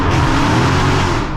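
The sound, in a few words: 800bhp Dodge Hellcat engine revving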